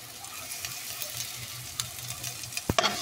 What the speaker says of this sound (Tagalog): sauté na natin ang ating garlic at saka onion